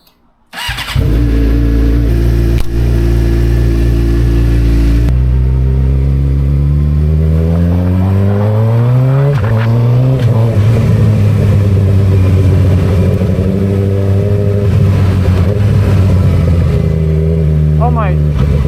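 A motorcycle engine starts and revs on a test ride after warming up, loud and close throughout, with pitch rising and falling as the throttle opens and eases; a voice talks over it.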